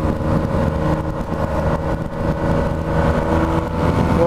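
A yellow Yamaha MT-09 motorcycle engine hums loudly and steadily while riding along the Marginal Pinheiros road in São Paulo, with wind and road noise and no talking.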